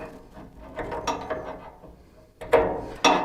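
A pressure gauge tubing fitting on a gas furnace is snugged up by hand, giving a few quiet mechanical clicks and scrapes, followed by two sharper, louder knocks close by.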